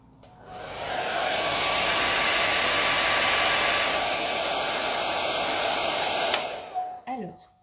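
A hair dryer blows air to dry a watercolor eucalyptus wreath painting. It clicks on and roars steadily at close range for several seconds, then switches off with a falling whine and rattle.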